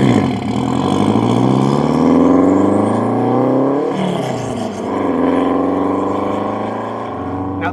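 Renault 5 Turbo 1 driving, its engine droning loud and steady close up, with the pitch rising and falling as it revs through gears. No talk over it.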